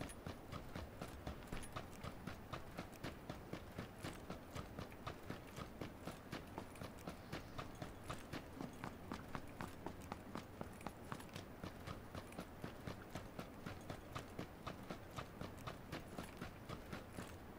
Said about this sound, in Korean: 발소리.